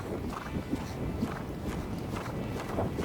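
A horse walks and comes to a stop during groundwork training, its hooves making faint, steady, soft footfalls over a low background hum.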